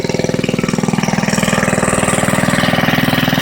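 A 1948 Briggs and Stratton WMB small engine runs steadily at idle, its rapid even firing pulses loud and close throughout, with no voices.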